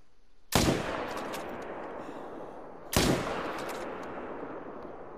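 Two loud .300 Magnum rifle shots fired at bison in a hunting video game, spaced about two and a half seconds apart, each a sharp crack followed by a long rolling echo.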